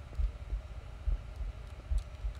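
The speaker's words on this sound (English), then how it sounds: "I hear like a heartbeat, and I don't like that." Heartbeat sound in the Halo CE Lumoria video game, a faint, low, regular double-thump pulse repeating at a steady pace under a quiet ambient hum.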